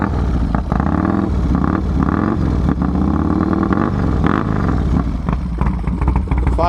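A cold 2002 Harley-Davidson Sportster fitted with a Zipper Super Hammer kit and Redshift cams idles just after start-up, its lumpy, uneven rumble loud and steady throughout with no voices.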